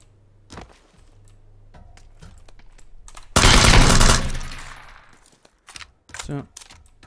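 Gunfire in PUBG: a long rapid burst of automatic fire lasts about a second, with a few isolated shots before and after it and soft game sounds in between.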